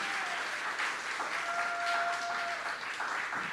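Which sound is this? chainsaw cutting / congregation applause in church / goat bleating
congregation applause in church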